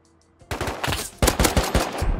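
Gunfire in the survival game Rust: after a brief quiet moment, loud rapid automatic shots crack out in quick succession with sharp, close impacts and no talking.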